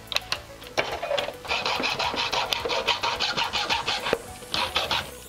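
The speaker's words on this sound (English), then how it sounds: "Clean up the cut with a little sandpaper." A cut plastic foot on a Nerf Rapidstrike blaster stock is sanded by hand with sandpaper: quick, close, evenly rhythmic scratchy rubbing strokes that repeat steadily with brief pauses.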